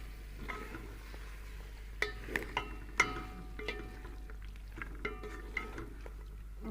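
Fried chicken being mixed in a cooking pan: sparse metallic clinks and scrapes of a utensil against the pan over a low steady hum, a few sharper taps in the middle.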